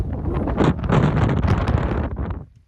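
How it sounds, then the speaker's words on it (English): Strong, chilly wind on New Mexico's highest peak buffets the microphone in rough, rushing gusts, loud and close, easing off at the very end. "It's starting to get windy"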